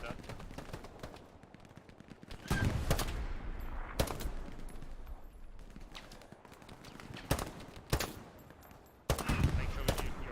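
Bursts of machine-gun fire from a World War II shooter game, several loud broadband volleys around 2.5, 4, 7.5, 8 and 9 seconds, with a continuous crackle of battle and some talk underneath.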